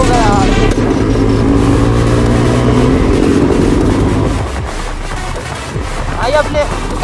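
Motorbikes riding in convoy near Shimla, a loud nearby engine drone and wind rush that eases partway through, as other bikes pass, with a rider talking.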